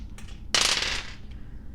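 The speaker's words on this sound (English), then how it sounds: "I'm going to roll the dice here just to see what signs we get" Dice rolled during an astrology card reading give a short rattling clatter of about half a second, fairly close and loud against a quiet room.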